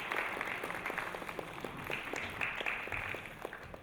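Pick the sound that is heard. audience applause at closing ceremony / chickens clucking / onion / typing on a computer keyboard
audience applause at closing ceremony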